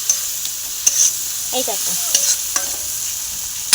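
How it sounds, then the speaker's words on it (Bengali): A spice mixture fried in a pan after onions, scraped and stirred with a spoon. A low hiss sits under scattered clinks and scrapes, and a voice says a few words midway. "মশলাটা এখানে দিয়ে দিলাম। মশলাটা এরকমভাবে কষে নেব।"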